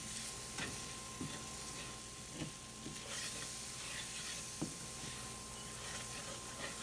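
Stew beef being stirred into flour in a hot pot, browning with a soft steady sizzle and hiss, a few faint scrapes and clinks of the spoon scattered throughout.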